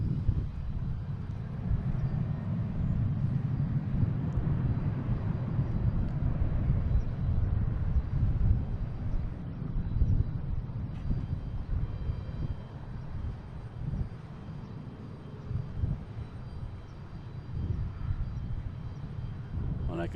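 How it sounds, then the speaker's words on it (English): An Etihad airliner on final approach into Boston Logan gives a steady, broad low engine rumble that holds for about twenty seconds, moderately loud with some wind buffeting and no talk. "All right, Etihad is on final."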